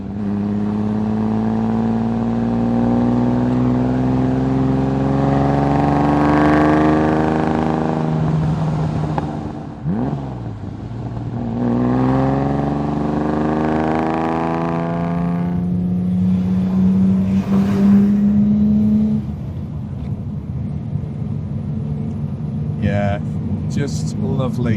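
A Lamborghini 400GT V12 from the 1960s, freshly restored, pulls hard through the gears, its engine note rising in long sweeping climbs, dropping at each shift, then climbing again, loud and close, with someone speaking over it at times.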